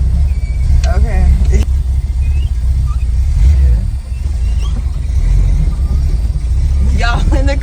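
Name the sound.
car reversing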